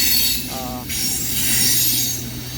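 A CSX mixed freight train at night grinds past with loud, sustained metallic wheel squeal and a brief higher screech over the rolling rumble of the cars.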